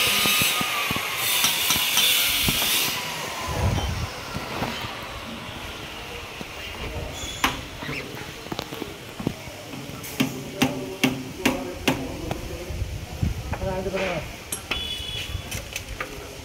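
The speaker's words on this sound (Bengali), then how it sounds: "এই ওপরে পাইপ লাগাচ্ছে, মল পাইপ ঢুকছে।" Workers fit a main pipe overhead, sending a run of sharp metallic knocks and clanks over a noisy work-site background, with faint voices at times.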